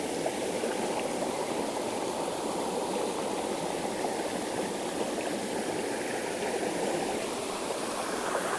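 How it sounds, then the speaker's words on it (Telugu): Water pours steadily over the Medi Pally waterfall near Anantha Sagar in Siddipet, a continuous loud broadband rush that stays even throughout with no voices. "మనం చూస్తున్న వాటర్ ఫాల్స్ వచ్చేసి ఇక్కడ నుంచే వాటర్ పోయి అక్కడ వాటర్ ఫాల్స్ ఎక్కువ వస్తున్నాయి"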